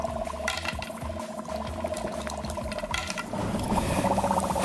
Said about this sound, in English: You can already hear it bubbling, and fog will come out pretty soon.